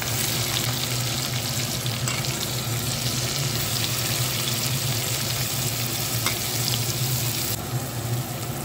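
Chopped onion frying in hot oil for a Bengali crab curry, giving a loud, continuous, dense sizzle throughout with occasional faint clinks.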